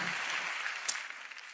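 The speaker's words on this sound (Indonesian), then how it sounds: "Berikan tepuk tangan yang meriah buat Tuhan." A church congregation claps together at a sermon, producing a short, moderately quiet burst of dense applause that fades slightly as it goes.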